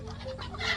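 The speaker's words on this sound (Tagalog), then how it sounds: "Ito mga manok." Farm chickens in a rural yard cluck in a short, steady burst at close range, with no talk over them.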